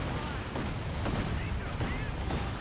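A high-explosive artillery barrage in the video game Company of Heroes 2 pounds away with several sharp, heavy blasts over a dense background rumble, while a commentator talks over the battle.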